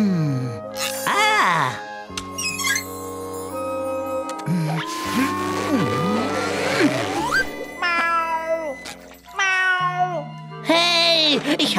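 A cartoon snail meows from inside a wall, long drawn-out wailing cries that rise and bend, mixed with musical tones and scattered comic sound effects throughout.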